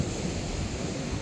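Ocean surf at a fishing spot rolls and hisses continuously, a dense broadband wash of breaking waves mixed with wind noise on the microphone, steady and fairly loud with no voices.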